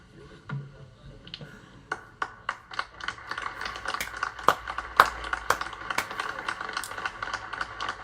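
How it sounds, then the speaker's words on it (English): A pen signing a bill at a presidential signing ceremony gives a run of sharp scratches and taps, close and moderately loud, with faint room murmur behind. "do you hear him signing?"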